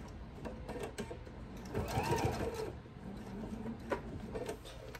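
A domestic sewing machine stitches a fabric thread catcher, its quiet rapid mechanical whir running in short bursts with brief pauses, close and fairly soft, with no voices over it.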